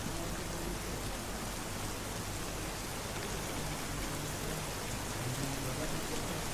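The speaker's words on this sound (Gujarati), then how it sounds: "ભારે વરસાદને કારણે પાણીનો નિકાલ પણ કરવો મુશ્કેલ બન્યો છે" Heavy, continuous rain pouring down during a spell of flooding, a dense steady hiss of drops hitting surfaces throughout, loud and close with no pauses or voices.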